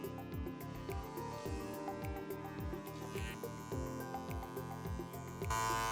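Electric hair clippers taper the neck hair during a home trim: a close, humming electric buzz with a rhythmic wavering pattern as the clipper moves in short strokes, no voices.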